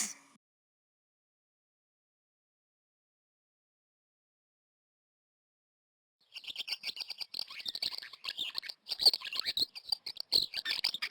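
Bird chirps in the King's Quest video game, a mother bird feeding young in a nest high above; after a long silence, bright rapid tweeting and chattering calls begin and continue in busy bursts.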